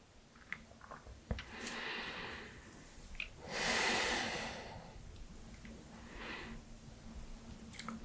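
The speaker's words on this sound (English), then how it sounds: "Breathe slowly and deeply and try to move deeper" Slow, deep breaths during a seated forward fold stretch in Janu Sirsasana, with soft airy inhales and exhales coming in long swells, close and quiet with no talking.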